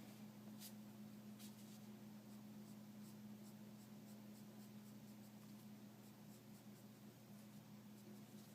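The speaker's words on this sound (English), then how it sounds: "I'm going to draw little tiny lines to start adding that in." A dark umber colored pencil scratches tiny lines on paper, a faint, continuous dry scratching under a steady low electrical hum, with no talking.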